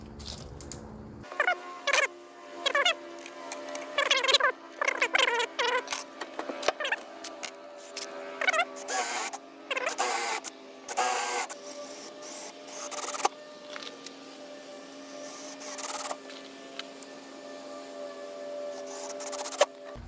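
Pocket holes being drilled into pallet wood for a trapezoid standing desk, a series of short, loud bursts of whirring and rasping drill cutting repeated one after another, with brief pauses between passes.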